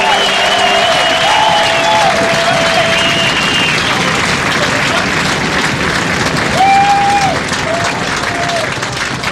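A rugby stadium crowd at a Canada versus USA match roars and applauds steadily and loudly throughout, a dense wash of clapping and cheering, while a commentator's voice rides along underneath.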